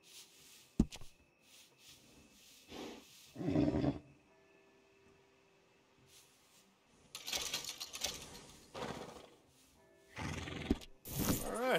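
A horse in the Red Dead Redemption 2 video game whinnies and snorts in several separate bursts, fairly close and moderately loud, with quieter gaps between the calls.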